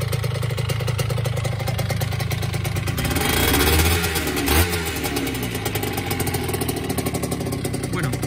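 A Honda NS-1 75cc two-stroke motorcycle engine buzzing and revving through an aftermarket exhaust, loud and close, with a brief rise in revs midway and steady raspy idling around it.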